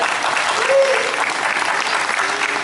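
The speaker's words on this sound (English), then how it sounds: "Let's give her a big round of applause once again." A theme park audience at a Universal Studios Los Angeles special effects demonstration applauds a volunteer, with dense, steady clapping filling the space from start to finish under a faint voice.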